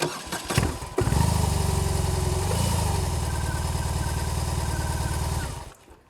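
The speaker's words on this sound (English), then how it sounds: "The engine comes to life in the traditional characteristic Boxer manner, starting off with a judder, pushing a little to the left and then settling into a lumpy idle." A BMW 1800cc boxer motorcycle engine cranks after a few short clicks, catches with a judder and settles into a steady, lumpy idle, loud and close, before cutting off near the end.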